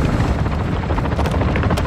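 Helicopter rotor thudding loud and close in the video game Call of Duty: Modern Warfare II, a steady dense chop filling the whole moment.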